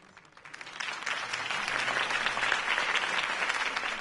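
A crowd applauds after a campaign speech, the clapping swelling quickly from quiet to a broad, sustained ovation that continues evenly to the end.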